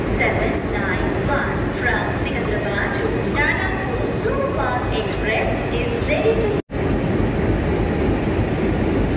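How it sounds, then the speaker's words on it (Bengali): A local train rumbling past at Secunderabad station, a close, continuous roar of wheels and carriages with faint rail squeals and muffled voices in the background. "একদম ফাঁকা যাচ্ছে ট্রেনটা,"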